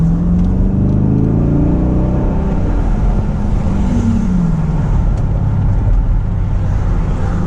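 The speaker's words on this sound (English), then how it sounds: "Oh, look, a Durango RT" A Dodge Durango R/T drives by with a steady, loud engine rumble and a rising then falling tone as it passes close, set against continuous road noise.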